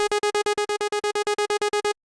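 A synthesizer repeats one short note sixteen times in an even, quick sixteenth-note pulse, then stops abruptly.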